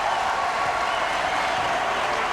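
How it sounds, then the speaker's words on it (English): A basketball crowd in Case Gymnasium at the 2002 America East Championship game roars and applauds steadily as people rise to their feet, a dense continuous wash of cheering filling the arena. "this crowd coming to its feet at the Case Gymnasium"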